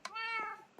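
A single drawn-out cat meow from Minecraft Java, clear and close, rising into a bright harmonic tone and fading after under a second, with a brief soft click at the end.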